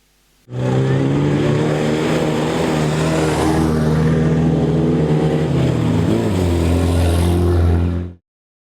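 A rally car races on a bumpy track at a Kudymkar rough-road race, its engine droning loud and close for about eight seconds with a sustained tone that dips and shifts in pitch partway through, with no talking.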